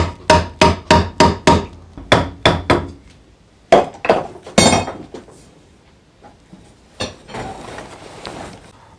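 Repeated sharp hammer taps drive a turned bushing into a Renault Megane 2 steering rack, a quick series of close, loud metallic knocks followed by scattered clinks and handling noises.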